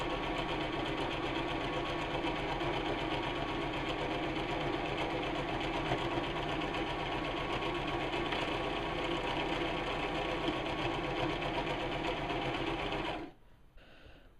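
Sewing machine stitching a fabric drawstring bag, a steady fast rhythmic whirring and clatter running continuously and close for about thirteen seconds before stopping abruptly.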